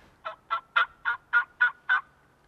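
A wild turkey hen gives a series of seven evenly spaced, raspy yelps, clear and fairly close against a quiet outdoor background.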